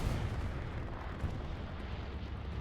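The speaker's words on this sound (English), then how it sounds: "Artillery is now hitting the tanks, so they can no longer repair." Artillery barrages pound tanks in the World War II shooter Hell Let Loose, heard as a dense, continuous low rumble of distant blasts with a slightly stronger thump midway and no voices.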